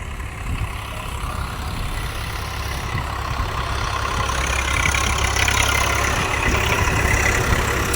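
A tractor engine idles and runs steadily nearby, a continuous low rumbling drone that grows slightly louder toward the end.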